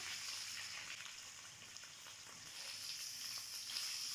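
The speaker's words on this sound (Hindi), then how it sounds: "और अच्छे से इसको फ्राई कर लेंगे हम इस तरीके से थोड़ा सा।" Chicken sizzles and crackles in a hot pan, a steady bright frying hiss with small pops, close by and uninterrupted by talk.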